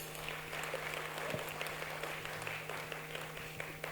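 Steady applause from an audience at a Haryanvi Saang folk theatre performance, a soft, distant patter of many hands clapping continuously without a break.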